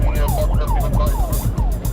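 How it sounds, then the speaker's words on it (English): Police car siren wailing in rising and falling sweeps during a London pursuit toward Hammersmith Road and Brook Green, loud and close over steady road and engine rumble, with no talking. "PC Warnes turns off the siren. He doesn't want to scare them into running again."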